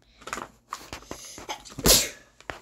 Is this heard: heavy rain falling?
no